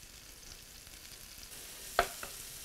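Shallots sautéing in a pan, seasoned with salt and pepper and browning lightly, produce a faint, soft sizzle with one sharp utensil clink near the end.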